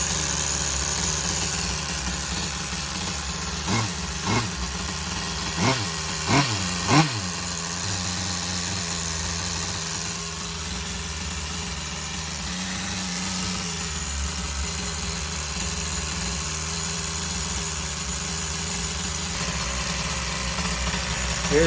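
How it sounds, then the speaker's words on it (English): A Tamiya TGS-R nitro RC car engine built with an HPI motor and Tamiya carburetor, idling steadily with a buzzing drone and a few short revs in quick succession early on before settling back to idle. "Thing has to be like one of the best running engines I ever had."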